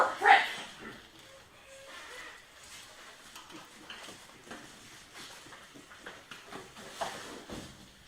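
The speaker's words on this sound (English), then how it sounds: "got a lot of attack dogs." Attack dogs bark and whimper at a distance, faint and steady in the background of a garage, with no clear voices over them.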